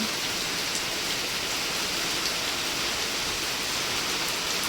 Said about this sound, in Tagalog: Sana lumakas pa yung ulan para makatubig yung mga palayan.